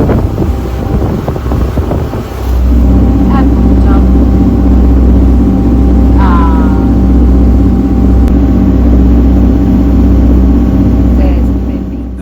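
A boat travels from Blackpool toward the Isle of Man at about 10 knots, its engine droning steadily under heavy wind rumble on the microphone, with someone talking briefly over it.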